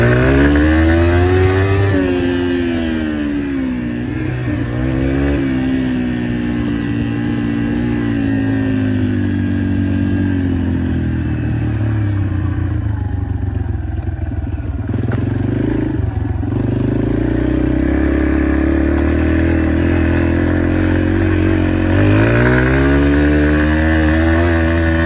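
A Yamaha TTR125 trail motorcycle, a 125 cc dirt bike being ridden, with its engine droning loud and close, rising and falling in pitch as it revs through the gears, and wind and clatter mixed in throughout.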